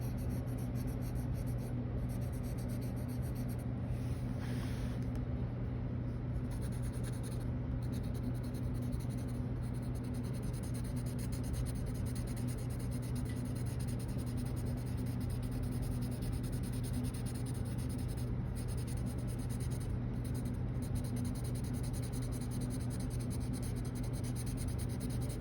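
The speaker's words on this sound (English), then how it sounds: "I'm just holding the pencil way back so that I don't apply a whole lot of pressure to it" A colored pencil shades lightly across paper in a steady, continuous soft scratching that runs unbroken throughout, close and quiet with no talking.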